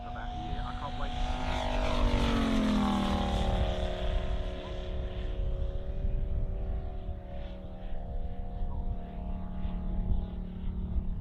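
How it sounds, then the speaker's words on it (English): Model aircraft at an airshow making a slow flyby, a close propeller engine buzz with a clear falling pitch as it passes, then a steadier drone fading into the distance. "It's a nice slow flyby."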